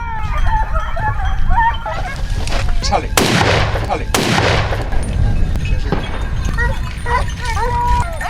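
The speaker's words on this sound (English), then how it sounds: "The first shot rang out" Rifle shots ring out on a wild boar hunt in dry forest, two loud sharp cracks a second apart standing out over bird calls and chatter in a continuous outdoor soundscape.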